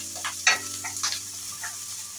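Onion and ginger are stirred around a hot pan, with a utensil scraping in several separate strokes over a soft background sizzle and no voices.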